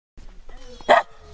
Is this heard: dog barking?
yes